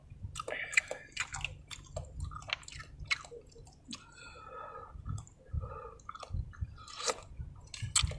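A person at sea eats squid with hot soup, making close, moist chewing, clicking and slurping sounds in an irregular rhythm over a low background rumble.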